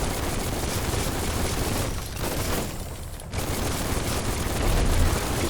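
Gatling-style gun firing in Biomutant, a continuous loud roar of rapid shots that dips briefly partway through before resuming at full intensity.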